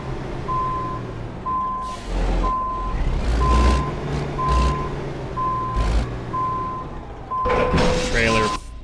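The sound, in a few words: truck reversing with backup beeps, American Truck Simulator video game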